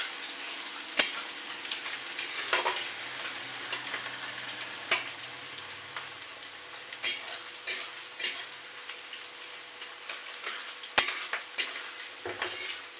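Onions fry in oil in a pan before goat meat is added, giving a continuous soft sizzle broken by sharp clinks and scrapes of a utensil stirring against the metal.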